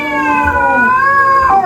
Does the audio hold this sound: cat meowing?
yes